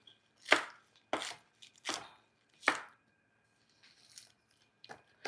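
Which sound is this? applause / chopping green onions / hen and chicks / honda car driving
chopping green onions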